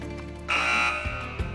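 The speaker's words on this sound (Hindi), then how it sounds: "मैं बजर्स इनेबल कर रहा हूँ।" A quiz show buzzer goes off during a Ramzan special religious knowledge quiz, a loud sustained electronic tone lasting about half a second, followed by a couple of low thumps.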